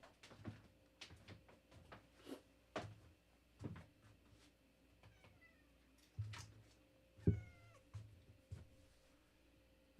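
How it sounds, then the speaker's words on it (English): A house cat meows repeatedly outside a door, waiting to be let in; several distinct meows spaced a second or two apart, fairly faint and distant, with a few knocks and bumps of the door between them. "I have to let my cat in."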